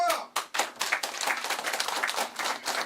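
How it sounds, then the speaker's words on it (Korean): An audience at a Korean political candidacy announcement claps, starting with a few sharp separate claps that quickly merge into lively, uneven applause close by. "박수!"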